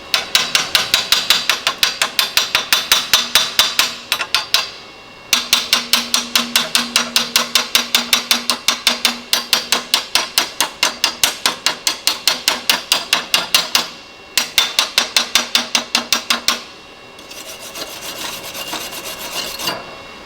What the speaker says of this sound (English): Now this amperage is way too hot for this material we're welding together, but I just wanted to see how it'll do.